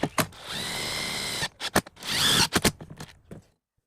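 Self-drilling screws driven by a power drill into a wooden deck joist: a long whirring drill run, then short bursts and a second sustained drive, close and fairly loud with no talking.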